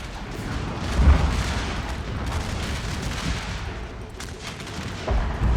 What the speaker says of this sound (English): We're just getting bombarded by artillery and rifle fire